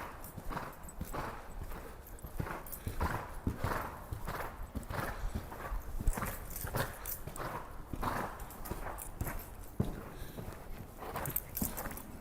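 Horse hooves beat in a steady, close rhythm during a riding lesson, with occasional faint snorts and little talk over them.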